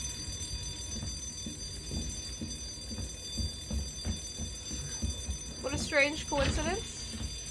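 A steady fire alarm rings through Resident Evil 2 Remake's background ambience while someone speaks briefly near the end of the clip.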